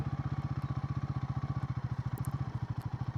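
A Royal Enfield Guerrilla 450 motorcycle rolls along at very slow speed, its single-cylinder engine thumping in a steady, rapid low pulse close to the microphone, with faint mechanical clatter and no talking.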